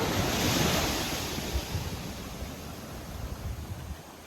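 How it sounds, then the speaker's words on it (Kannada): High ocean waves roll onto a beach in the Andaman Islands, a loud, close, continuous surf roar with wind buffeting the microphone. "ಅಲೆಗಳು ಇವತ್ತೊಂದು ತುಂಬ ಜಾಸ್ತಿ ಇದೆ. ಟೈಡ್ಸ್ ಜಾಸ್ತಿ ಇದೆ ಇವತ್ತು, ಹೈ ಇದೆ."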